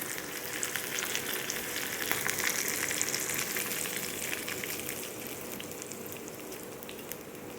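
Hot tempering poured into horse gram chutney sets off a loud, close sizzle that gradually fades into a softer crackling hiss, with no voices heard.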